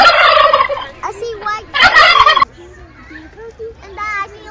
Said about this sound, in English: Look at those fat turkeys.